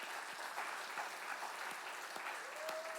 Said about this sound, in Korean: 하나님께 감사와 영광의 박수 한번 올려드리겠습니다